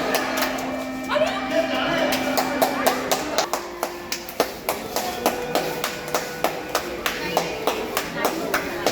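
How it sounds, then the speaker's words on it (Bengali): Children clap loudly together, a dense, steady run of sharp claps close by, mixed with tonal background sounds and voices. "জোরে জোরে হাততালি দিতে হবে।"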